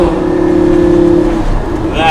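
A naturally aspirated Lamborghini engine holds a steady high-pitched drone at high revs, then eases off near the end, loud and close.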